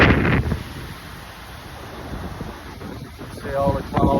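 Strong seaside wind buffets a camera microphone on a cloudy day with waves while sea fishing, a steady rumbling roar with louder gusts at the start and end, and a voice briefly speaking near the end.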